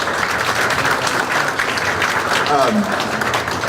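An audience at the grand opening of a parking garage claps in a dense, steady wash, with a voice briefly heard over it near the end.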